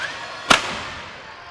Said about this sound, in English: Then I'm going to shoot through my bottom nailer